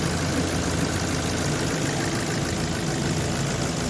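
A Ford Focus MK1 engine idles, a close, steady, continuous rumble with an even mechanical hum and no change in pace, heard on its own.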